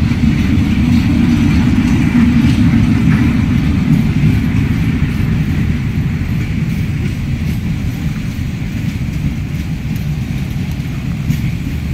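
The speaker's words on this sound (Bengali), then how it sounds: "এই যে দেখুন পিছনে ট্রেন যাচ্ছে" A train rumbles past behind a trackside spot late at night, a steady low roar with clattering that holds evenly throughout and no talking.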